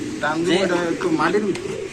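A pigeon coos nearby in soft, wavering low calls, with people talking close by at the same time.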